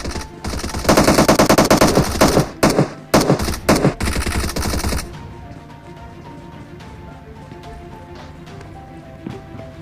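Rapid automatic gunfire from PUBG Mobile in a military base firefight, loud bursts and clustered shots for about five seconds, then dropping to quieter ambient game sound with faint distant pops.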